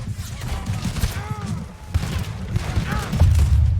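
Enemy gunfire in Red Dead Redemption 2, with a rapid volley of sharp shots and thuds mixed with game sounds and a voice, growing louder toward the end.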